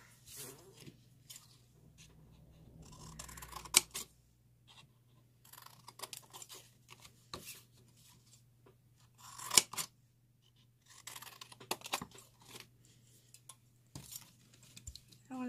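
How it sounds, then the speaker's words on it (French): Sharp intermittent snips of scissors cutting paper in a craft project, irregular bursts with short pauses, close by over a low steady hum. "Une paire de ciseaux."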